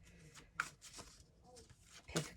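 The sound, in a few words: shuffling oracle cards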